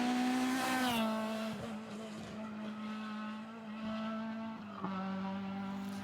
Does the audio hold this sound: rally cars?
yes